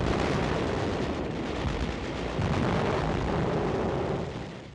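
Tank gunfire in a wartime city assault, blasting houses, heard as a dense, continuous roar of explosions and rumble that stays loud throughout and fades slightly at the end.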